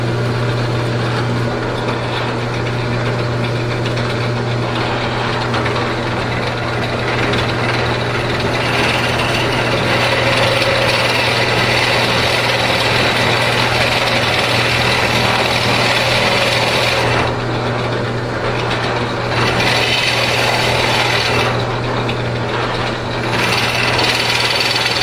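A power drill bores into the wooden body of a custom electric guitar, giving a loud, steady motor whine that runs without a break, close up, with no talk.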